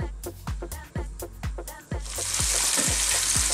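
Chunky king fish pieces frying in hot oil in a pan, with a steady loud sizzle and repeated clanks and scrapes of a utensil turning them, the sizzle swelling brighter toward the end.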